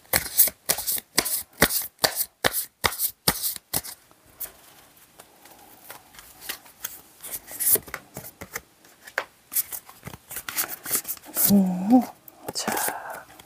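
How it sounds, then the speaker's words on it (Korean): Tarot cards are shuffled in a rapid series of crisp riffling bursts close to the microphone, followed by softer card handling and drawing while someone speaks quietly. "카드 2장만 더 뽑겠습니다."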